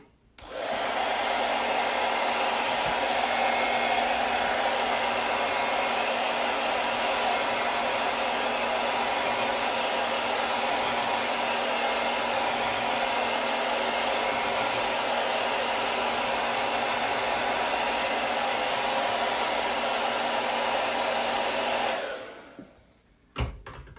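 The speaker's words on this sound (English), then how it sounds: "let's just hit them with the dryer real quick" A hair dryer blowing on freshly chalk-painted wood for a crafted sign, a loud steady whooshing roar held for about twenty seconds before it cuts off, with no speech.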